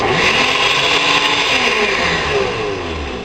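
A blender whirs loudly and steadily, its motor pitch slowly shifting as it churns raw eggs, then easing slightly toward the end.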